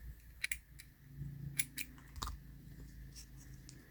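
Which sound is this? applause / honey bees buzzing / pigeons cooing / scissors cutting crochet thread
scissors cutting crochet thread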